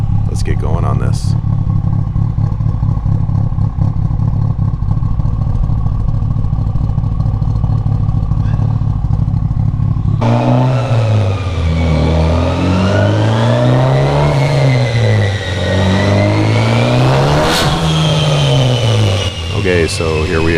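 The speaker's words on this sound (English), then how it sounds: "here we are on the chassis dyno, and we've already made a base run of 533, and we're turning up the boost" A turbocharged Mitsubishi Evo 5 running E85 fuel roars on a chassis dyno with its boost turned up, first holding a loud, steady drone, then revving up and down in repeated rising and falling sweeps.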